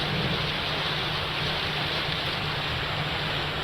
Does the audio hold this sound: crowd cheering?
no